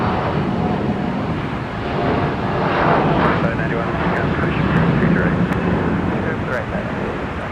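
A Virgin airliner arrives at Minneapolis–St. Paul airport, heard as a loud continuous jet roar mixed with heavy wind buffeting on the microphone.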